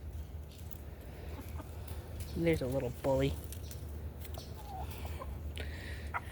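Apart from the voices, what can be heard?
hens clucking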